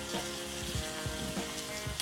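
Curry leaves crackling in hot tempering fat for rasam, a steady close sizzle and spatter with faint scraping of a spoon, continuous throughout.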